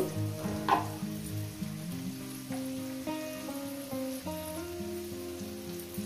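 Potatoes frying in a pan for a vegetarian drumstick, potato and poppy seed dish, a low, even sizzle running under gentle background music, with a brief stirring clatter near the start.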